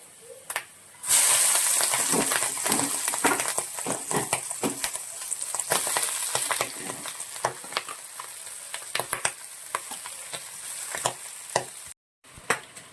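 Clam meat hitting a pan of browned sautéed masala for a tapioca and clam dish, a sudden loud sizzle that keeps hissing steadily, with scattered stirring clinks, before it fades slightly near the end.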